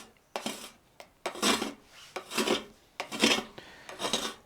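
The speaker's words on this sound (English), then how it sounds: "Pick up my scraper and simply come through it all like that." A scraper drags through acrylic paint in repeated rasping strokes, each a loud, bright scrape lasting under a second with short pauses between, close up and with no voices.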